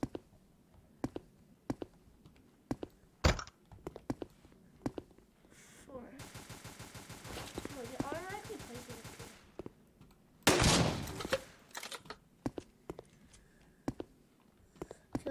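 Gunfire in the online shooter game Combat Reloaded comes as scattered sharp single shots, a rapid automatic burst in the middle and a loud blast near the end.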